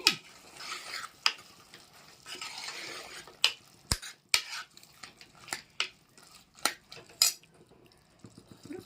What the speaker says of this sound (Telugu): మునక్కాయలు వేసి ఒకసారి కలుపుదాం.